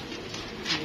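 Pigeons overhead give a brief, soft cooing call, faint and close to the ambient background.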